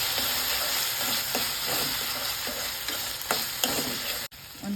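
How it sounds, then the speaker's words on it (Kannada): Potatoes fry and sizzle in a pan with onions while being stirred, a steady close hiss broken by repeated scraping strokes and soft clinks. "ಈಗ ಇದು ಚೆನ್ನಾಗಿ ಫ್ರೈ ಮಾಡ್ಕೊಳ್ಳೋಣ."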